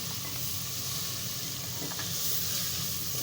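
Chili powder hits hot oil with a close, steady hissing sizzle that holds evenly for a few seconds.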